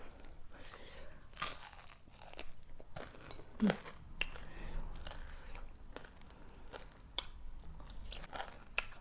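Someone is eating Isan pounded bean salad with sun-dried snakehead fish and sticky rice, with close, irregular biting and crunchy chewing and faint background voices.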